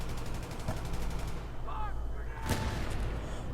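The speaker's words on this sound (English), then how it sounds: "Let's throw that grenade over there." Gunfire and a grenade blast in the Battlefield video game, with a sustained rumble of battle, a sharp burst partway through and faint speech mixed in.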